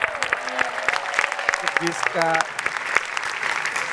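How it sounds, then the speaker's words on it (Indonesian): Audience applause on a televised singing competition stage, a steady patter of clapping running the whole time beneath a host's talk and some brief musical tones. "tepuk tangan dulu dong"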